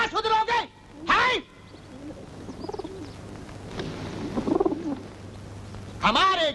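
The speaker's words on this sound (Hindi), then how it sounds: "परिंदा हुजूर, कबूतर।" A pigeon coos in low, soft murmurs in a jail setting between loud bursts of voices at the start and end.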